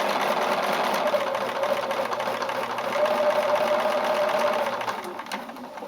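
Sewing machine stitching a fabric face mask, a close, continuous fast mechanical whir with a steady motor hum that rises slightly midway and eases off near the end.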